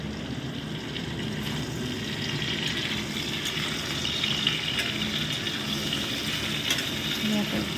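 Ginger sizzles and fries in a pan, a soft, steady crackling hiss that carries on without a break.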